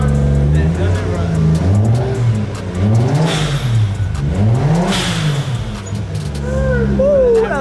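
A Toyota 1JZ engine swapped into a Nissan S14 fires up for its first start and revs hard several times, loud and close, with a person talking and cheering briefly over it.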